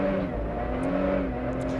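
A race car engine in a Speed World Challenge GT race at Road Atlanta in 2003 drones and revs steadily as the driver struggles to put power down, a continuous loud mechanical hum with slight pitch wavering.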